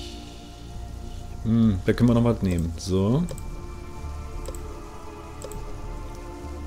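Steady rain hisses through a rainy spell in the survival video game Sheltered, a constant soft wash under someone speaking German in the foreground.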